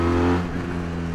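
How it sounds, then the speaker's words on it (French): Benelli TRK road motorcycle engine running steadily while riding, a loud close engine drone holding an even tone through the short stretch, with no talking. "c'est une moto de route"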